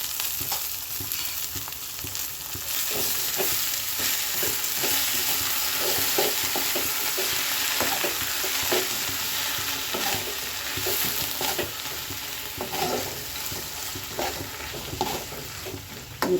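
Drumstick greens tossed into a hot frying pan for a Mandya-style avarekai uppu saaru, giving a loud continuous sizzle broken by frequent stirring clicks and scrapes against the pan, with no talking.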